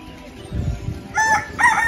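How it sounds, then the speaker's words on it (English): A chicken at a zoo clucks and calls in a few loud, close bursts, with some low rustling and handling noise just before. "It's a chicken."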